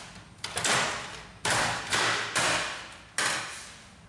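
The upper cover of a Samsung ML3310 laser printer is pressed back into place, giving four or five close, sharp plastic knocks and thumps that each fade quickly, spaced about a second apart, with no talking.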